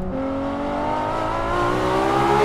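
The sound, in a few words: Ferrari LaFerrari engine driving off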